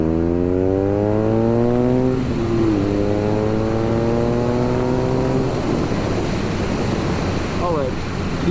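A 2022 BMW R nineT motorcycle engine pulls hard through the gears while riding, its tone rising, dropping at each shift and climbing again, loud and close over steady wind rush.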